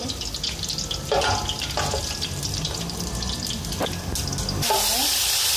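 Cumin seeds sizzling in hot oil in a pan while radish bhujiya is cooked, a steady fry with scattered clinks and stirring, then a louder hiss near the end, no speech.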